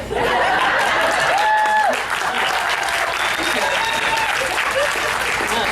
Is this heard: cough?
no